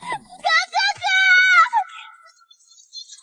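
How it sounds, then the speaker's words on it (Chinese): A young girl lets out a shrill, drawn-out scream lasting about a second, loud and close, preceded by short high cries and fading into quiet. "一声凄厉的惨叫打破了御花园的宁静"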